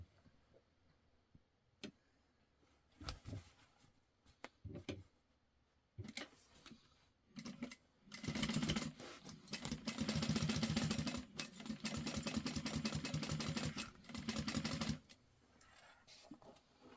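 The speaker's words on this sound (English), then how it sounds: "and then we are going to stitch this on." Sewing machine stitching a fabric tote bag with a pink Pokemon print, running in short bursts at first and then a long steady loud run of rapid stitching from about 8 to 15 seconds, with no talking.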